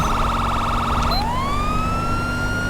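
Police siren in GTA V with an LSPDFR mod, sounding continuously and loudly throughout. It wails in a steady pattern, then sweeps up into a rising tone about halfway through, with no talk over it.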